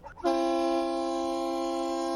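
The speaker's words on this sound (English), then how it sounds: "There you go, honk the horn, get the dog out of there." A car horn blares once in a loud, sustained honk that holds steady for about two seconds, close by.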